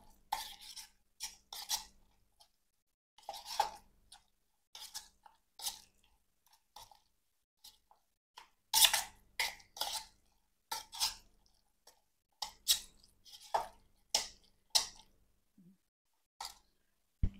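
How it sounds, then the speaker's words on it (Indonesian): Martabak mesir filling stirred until evenly mixed: scattered soft clacks and wet scraping strokes in irregular bursts, close and fairly quiet, with no talk over them. "Kita aduk sampai rata ya."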